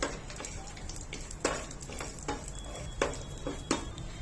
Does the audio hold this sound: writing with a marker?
no